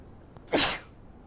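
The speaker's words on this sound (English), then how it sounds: "Pardon my sneeze." A single sharp sneeze, close and loud, bursting out briefly and alone against quiet background hiss.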